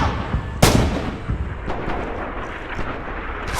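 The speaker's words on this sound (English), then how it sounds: "Enemy fire! Enemy fire!" Gunfire crackles in Red Orchestra 2 as a sharp, loud shot opens a stretch of rumbling distant firing and scattered reports, with no voices over it.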